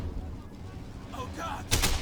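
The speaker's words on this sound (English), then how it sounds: "The cannon is still in the fight." Cannon fire in the World War II strategy game Men of War, a broadband blast near the end that follows low rumbling battle noise and scattered distant explosions.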